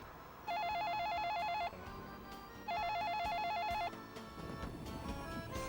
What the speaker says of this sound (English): his cell phone rang